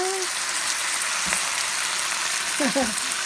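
Garlic fries in a pan with a loud, dense, continuous sizzle that holds steady throughout, while a few brief voiced sounds come in over it.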